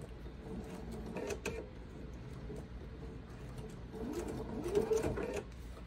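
A sewing machine runs in a steady, moderately quiet whir while stitching a quilt seam, with a slight swell in speed toward the end.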